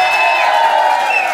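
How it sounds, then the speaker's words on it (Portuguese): A crowd at a party cheers and applauds, a brief, loud, dense wash of clapping and voices. "Uma salva de palmas!"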